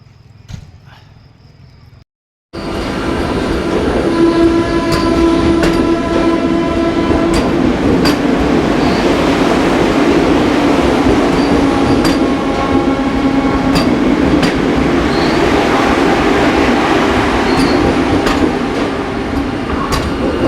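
A Vande Bharat express train pulls out of Agra Cantt station bound for Banaras, its loud, steady rumble and rolling wheel noise filling the platform after a brief quiet start, with faint horn-like tones above.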